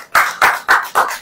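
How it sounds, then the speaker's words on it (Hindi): A congregation claps in unison, five loud sharp hand claps in a steady, even rhythm, close and clear with no talk over them. "अब ताली बजाए"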